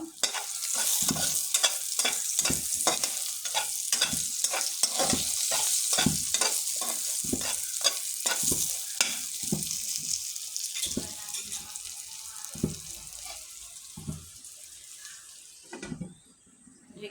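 Pointed gourd sizzling in a hot pan with chili powder, stirred and pressed with a spatula in steady repeated scrapes, a continuous frying hiss running underneath and thinning toward the end.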